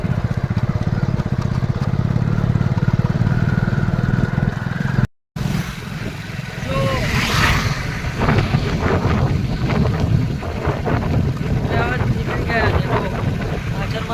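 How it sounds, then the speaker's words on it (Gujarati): A motorcycle engine drones steadily on the road with heavy wind rumble buffeting the microphone; a brief dropout midway, then the ride continues. "છોકરી છે, બાઇક ચલાવે છે"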